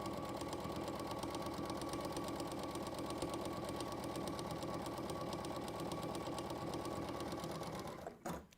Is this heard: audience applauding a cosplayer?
no